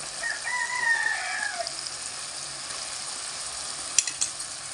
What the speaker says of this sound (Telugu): ఇప్పుడు ఇందులోకి మనము ముందుగా ఫ్రై చేసుకున్న చిక్కుడుకాయ వేసుకుందాం.